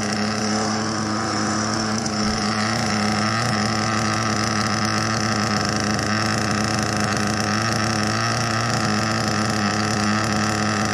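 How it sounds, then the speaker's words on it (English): HoBao Hyper VS2 nitro RC car engine idling, a loud, steady, buzzy drone that holds an even pitch throughout with no pauses. "We can try to drop the idle a bit to see if it's keep running at idle"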